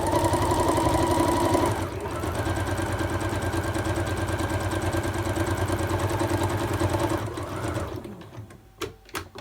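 A sewing machine runs steadily, stitching a quilt-as-you-go Santa pot holder at a quarter-inch seam. It holds a loud, continuous close-up whir for about eight seconds, then stops and leaves a few sharp clicks. One brief spoken remark comes in.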